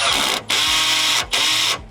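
Self-drilling screws being driven into a steel engine guard on a Mercedes Sprinter van, a power driver whirring loudly in two long bursts with a short pause between them, close up and with no voices.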